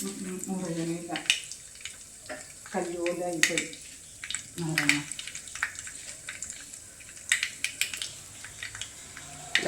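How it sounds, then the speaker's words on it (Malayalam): Mustard seeds crackle in hot oil as the tempering for a fish curry begins, with scattered sharp pops over a steady sizzle while a voice talks intermittently. "കടുക് പൊട്ടി"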